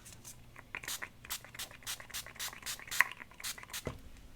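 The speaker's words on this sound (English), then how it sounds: "So start with the spray. I've got the water sprayer." A handheld water sprayer mists a craft project in a series of short, soft hissing bursts at an uneven rhythm, close by and quiet, with no talk.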